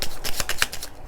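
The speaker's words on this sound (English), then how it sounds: "I'm going to shuffle these a couple times because they are hard to shuffle" Tarot cards are shuffled by hand in a quick run of crisp riffling flutters, about seven or eight short bursts across one second, close and dry with no voices.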